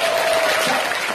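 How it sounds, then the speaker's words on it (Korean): An audience at a singing class applauds in a dense, continuous wash of clapping, fairly loud and even, with a faint sustained tone running beneath it. "박수로 청해드리겠습니다"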